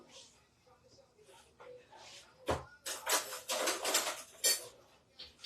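A whisk beats through beer batter in a bowl for fish tacos, sharp metallic scraping strokes coming in quick bursts after a few quieter clinks, close and fairly loud.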